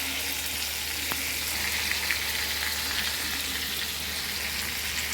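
Pomfret fish coated in green masala fry in a pan with a dense, even sizzle like light rain, steady and close, with a couple of faint clicks and a sharp knock at the very end.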